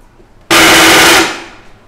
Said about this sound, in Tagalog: ano ba yung tunog ng balakatak?